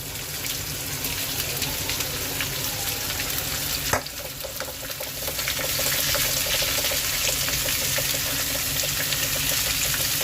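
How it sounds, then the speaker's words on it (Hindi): Onion frying in hot oil in a pan gives a steady, dense sizzle that carries on unbroken, with a brief clatter partway through and the sizzle growing slightly louder afterward. "और उसके बाद में हम कांदा डाल देंगे। इसे भी थोड़ा नरम कर लेंगे।"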